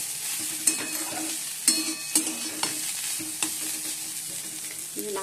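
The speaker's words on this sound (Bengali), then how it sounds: "উচ্ছে আলু ভাজা হয়ে গেছে" Bitter gourd and potatoes frying in a pan with a steady sizzle, while a spatula stirs and scrapes in sharp, irregular clicks, close and alone without any talk.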